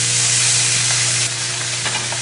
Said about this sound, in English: So let's get these steaks on.